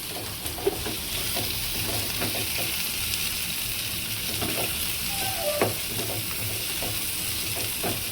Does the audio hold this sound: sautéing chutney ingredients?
yes